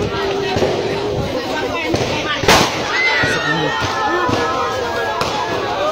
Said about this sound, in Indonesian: anggota TNI yang menembak ke atas